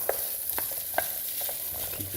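Celery being stirred and sautéed in a soup pot with carrot and other vegetables, giving a soft steady sizzle with a few light scraping stirs of a spoon.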